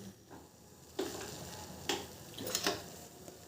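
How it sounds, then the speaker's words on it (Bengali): Hibiscus flowers and leaves simmer in a pot of water, giving a soft, steady bubbling hiss broken by a few louder pops and small clinks. "তা খানিকক্ষণ ফুটুক বন্ধুরা"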